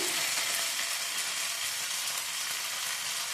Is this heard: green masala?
yes